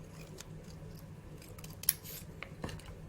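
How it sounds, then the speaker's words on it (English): Scissors snip through paper in a few quiet, separate cuts near the microphone, over a low room hum. "you're going to get your scissors and you're going to cut."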